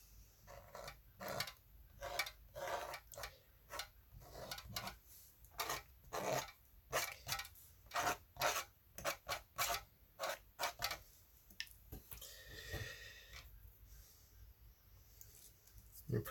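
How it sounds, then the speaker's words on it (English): A tool scrapes highlights into a watercolor painting on paper, making a series of faint, short rasping strokes in an irregular rhythm, fairly close, with brief quiet gaps between them. "You could also scrape a few select highlights."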